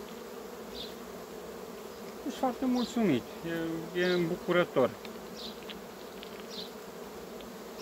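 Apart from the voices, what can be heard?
buzzing bees of a Buckfast colony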